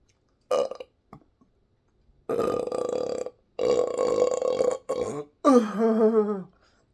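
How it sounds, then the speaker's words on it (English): Several loud burps after eating spicy noodles, a short one then three long drawn-out belches, the last rising and croaking, heard close and alone with no talking. "No more burps. No more hiccups."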